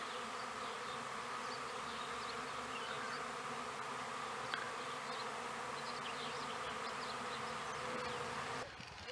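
A honeybee swarm pouring out of a hive fills the air with a dense, continuous buzz close by and loud throughout, with no talking, before it cuts off at the very end.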